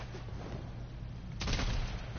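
Gunfire from a shooter in the video game Warframe, a dense rattling volley that grows louder and fuller partway through, heard alone without voices.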